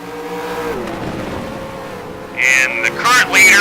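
Race cars from a racing video game roar past in a quick sweep, engine noise rising sharply and whining high near the end, with steady background engine drone throughout.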